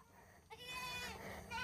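A two-month-old goat gives a short, faint bleat with a wavering tone, heard once at close range.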